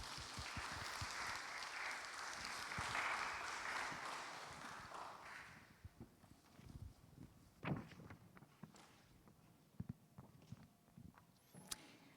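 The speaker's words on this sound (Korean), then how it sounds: "우리 박수하도록 하겠습니다." Applause from a church congregation at a Friday prayer meeting, a dense, steady wash of many hands for about six seconds that then fades into scattered soft thumps and shuffling.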